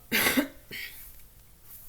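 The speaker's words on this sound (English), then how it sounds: "smoker's cough" A single harsh, raspy smoker's cough bursts out close by, followed a moment later by a shorter, weaker second hack, then quiet.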